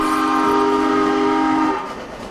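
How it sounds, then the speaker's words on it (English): Train in a video game pulling into a station, a loud sustained whistle-like tonal drone with steady rumble that cuts off and fades near the end, no talk. "Oh, the train's gonna stop at the station"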